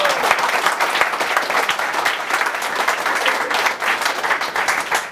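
An audience at a comedy event at a hair and makeup academy applauds together, a dense, loud, continuous wash of many hands clapping throughout.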